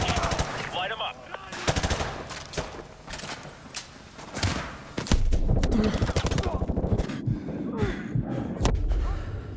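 Rapid bursts of automatic gunfire and single shots from enemies in the Call of Duty Modern Warfare 2 campaign, dense and loud throughout, layered with thumps and game ambience.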